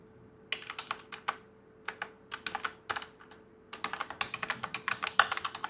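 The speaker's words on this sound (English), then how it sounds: "type in your Gmail account and click on continue" Keys clatter on a computer keyboard as someone types in bursts, with quick irregular taps, short pauses between groups of strokes, close and clear in a quiet room.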